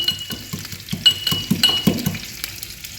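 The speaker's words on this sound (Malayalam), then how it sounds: "കടുക് പൊട്ടാൻ തുടങ്ങിയിട്ടുണ്ട്" Mustard seeds pop and splutter in hot oil for a greens stir-fry, a steady crackling sizzle broken by quick sharp pops, close and fairly loud.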